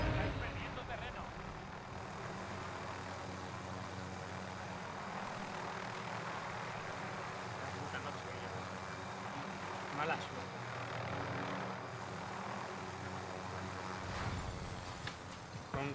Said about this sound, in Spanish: Bueno, voy en helicóptero.